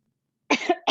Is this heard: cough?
yes